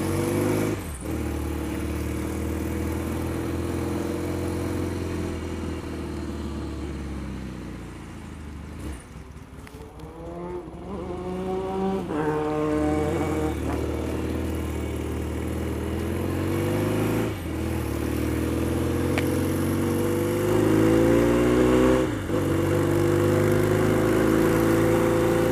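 A Royal Enfield Mk1 Interceptor motorcycle pulls in top gear, its engine note rising steadily through several long accelerating surges with brief dips between them, loud and close throughout.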